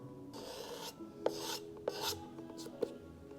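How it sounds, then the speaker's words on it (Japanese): A leather shoe sole is rasped at a shoemaking demonstration, giving close, dry scraping strokes in short bursts with a few sharp ticks between them, and no talk. "これソール面これ回しますんで、こうやってやると削ります。"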